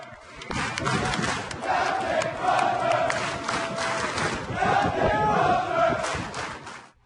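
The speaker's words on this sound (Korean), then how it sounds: "핵 추진 항공모함에선 떠나는 함장의 이름을 연호하는 환호성으로 가득합니다" Sailors crowded aboard a nuclear aircraft carrier cheer and chant the departing captain's name, a loud, rhythmic roar of many voices mixed with clapping that swells in waves and drops off at the end.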